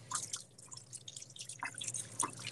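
Running water rinses off hands in a short, quiet stretch of irregular splashing and dripping at close range.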